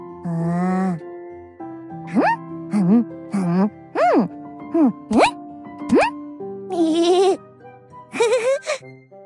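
A cartoon sheep in a children's drawing video game bleats over and over, a series of short wavering baa calls with pauses between, clear and close with no talk.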